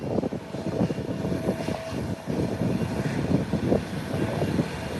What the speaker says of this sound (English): Whilst the CRJ is pushing back